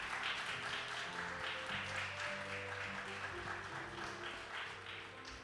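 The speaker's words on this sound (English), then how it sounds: "Big applause, please" Audience applause fills a startup pitching competition hall, a steady dense wash of clapping that holds for several seconds and eases slightly toward the end, with faint tonal hum beneath.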